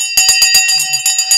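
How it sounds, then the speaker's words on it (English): Stock market opening bell on a live trading broadcast, a rapid run of bright metallic strikes ringing loud and close in an even rhythm. "We're about to ring the bell"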